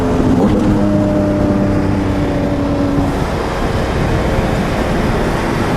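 A 2023 Porsche 718 Cayman GT4 RS engine revs and holds a steady rising tone for a few seconds, then settles into a loud continuous rumble.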